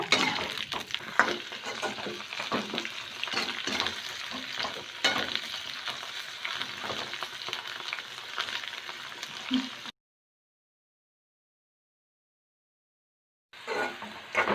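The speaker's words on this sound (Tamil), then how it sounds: "இதை வந்து நல்லா ஆயில்ல வந்து ஃப்ரை பண்ணிக்கோங்க." Okra frying in oil in a pan for a dhaba-style bhindi masala, a steady close crackling sizzle with stirring scrapes for about ten seconds, then silence before the frying noise briefly returns.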